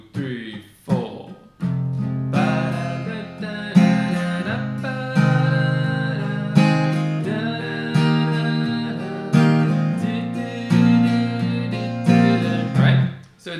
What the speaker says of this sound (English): So the strum sounds like this.